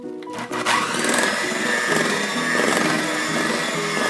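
An electric mixer whirs continuously through thick cookie batter with flour and baking soda, a steady buzzing motor drone with a slightly uneven rhythm as the beaters churn.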